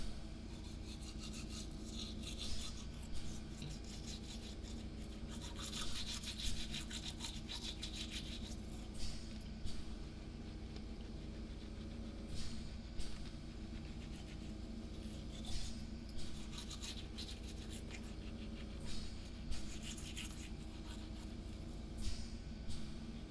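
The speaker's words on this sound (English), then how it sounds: "now I'm brushing my teeth" A toothbrush scrubs teeth in quick raspy strokes, close and fairly quiet, with brief rhythmic bursts of brushing repeating every second or two over faint background hum.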